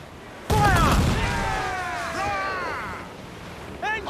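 Naval cannon fire in Assassin's Creed IV: Black Flag, a sudden heavy broadside boom followed by a long rumbling tail over sea and wind, with shouting voices during it and another burst near the end.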